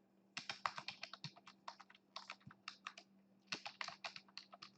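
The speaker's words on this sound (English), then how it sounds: "and type the password" Rapid bursts of keystrokes on a computer keyboard as a password is entered, two clear runs of crisp, close clicking separated by a short pause, with no voices.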